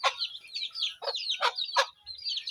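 A chicken clucks nearby in a quick series of sharp, high calls, loud and clear with no talk over it.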